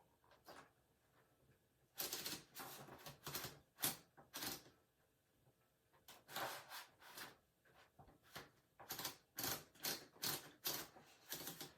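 Manual typewriter being typed on, with irregular bursts of sharp clacking keystrokes separated by short pauses, quiet and close.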